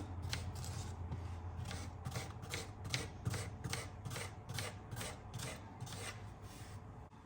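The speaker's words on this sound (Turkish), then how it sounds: "Daha sonra bu şekilde şeritler halinde ince ince dilimliyorum." A kitchen knife slices zucchini into thin strips on a cutting board, making a steady run of about a dozen close, crisp strokes at an even pace with no talking.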